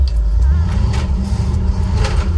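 A 1964 Ford Galaxie 500 with a new carburetor drives along, its engine giving a loud, steady low rumble close by throughout, without voices.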